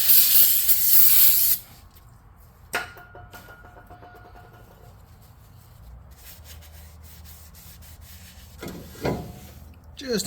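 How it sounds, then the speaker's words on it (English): Brake cleaner sprayed onto a Toyota Tundra brake rotor in a loud, close hissing burst lasting about a second and a half, followed by quieter handling and rubbing noises. "We'll spray our brake rotor."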